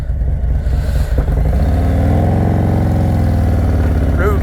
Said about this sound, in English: Bike sounds good too, daggone.